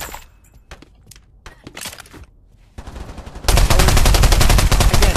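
Video game gunfire in a bunker, scattered sharp shots at first, then a loud, continuous automatic barrage in the last seconds.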